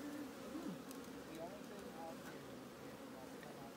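A steady hum of honeybees buzzing around an open hive during an inspection fills the background while people talk quietly over it.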